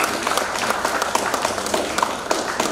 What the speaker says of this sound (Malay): Kita mungkin beri juga tepukan dulu lah kepada mereka.